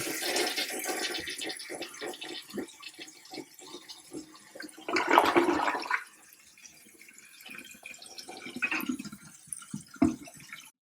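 Toilet flushing after its tank float has been replaced, a gurgling rush of water for several seconds, then quiet and a later trickling refill with drips and a few clunks, heard up close in a small room.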